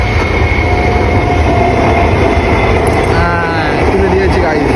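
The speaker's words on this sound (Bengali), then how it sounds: "ওই দেখো ট্রেন" A train rolls past up close, a loud continuous rumble of wagons with faint wheel squeals and clatter, while people talk underneath.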